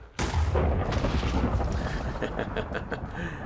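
A cannon in Balkon's WeaponMod game fires a cannonball: a sudden loud boom opens, then a long rumbling, roaring tail with wind-like noise trailing off over several seconds.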